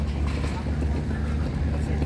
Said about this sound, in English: That's a speedboat, we just get out.